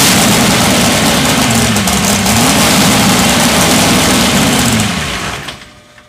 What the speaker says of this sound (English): now we'll start the engine